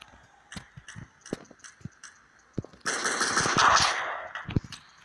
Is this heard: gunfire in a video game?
yes